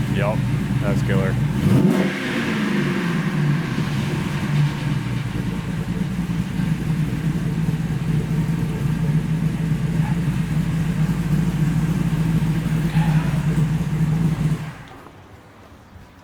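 A lifted truck with a new custom true dual exhaust revs loudly and steadily at close range for about fourteen seconds, with a deep rumbling drone and a few throttle blips, before cutting off abruptly.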